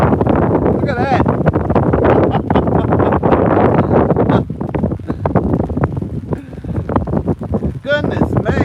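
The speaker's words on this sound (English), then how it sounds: "So the wind might be dropping just a tad." Strong wind buffets the microphone on the banks of the Burnett River, a loud continuous roar with gusts, while someone talks over it in short bursts.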